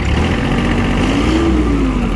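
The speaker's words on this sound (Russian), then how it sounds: "слышим, в принципе, что двигатель работает также ровненько." An Iseki SIAL243 24-horsepower tractor diesel engine revs up and settles, a loud steady rumble with a rising then falling tone, close by and without voices.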